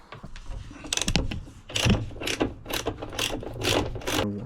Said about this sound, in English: I'll just unbolt them there and take the handles off.